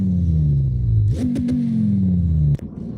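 A Mitsubishi Evo engine in the CarX Drift Racing video game revs steadily, its pitch sliding down, then jumps higher with a couple of sharp blips and falls again. It cuts off abruptly near the end, with no talking.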